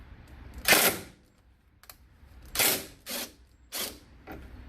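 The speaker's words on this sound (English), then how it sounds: "So you take these two screws off." A driver works T20 Torx screws loose on the hood latch of a 2011 BMW X3, giving several short, sharp ratcheting clicks in separate bursts with quiet gaps between them, heard up close.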